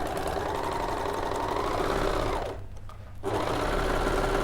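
A fast sewing machine stitches the ends of fabric pieces joined right sides together, a loud, even mechanical whir that briefly dips quieter midway before resuming at full speed, with no talking.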